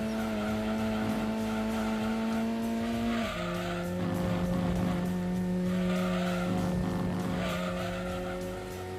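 A BMW 328 race car in Gran Turismo 2 racing at Apricot Hill, its engine holding a steady, buzzing drone that drops in pitch at a gear change, with tire squeal over the top and no talk.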